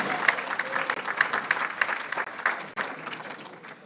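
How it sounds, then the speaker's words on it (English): Audience applause at an awards gala for a chamber of commerce, held in a conference center banquet room: a steady patter of many hands clapping, moderately loud, and lasting a few seconds. "How about a nice round of applause for the staff here at the Regatta Room and Conference Center?"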